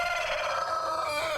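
Rooster crowing on a rural outdoor property, a single loud, close, drawn-out call with a rising then falling tone, alone without speech.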